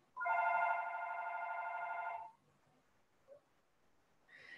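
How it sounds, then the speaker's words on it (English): A telephone rings in a quiet auto shop, one steady electronic trill lasting about two seconds, then silence with a faint short chirp and the start of another ring; no one speaks. "Can you guys hear that phone ringing?"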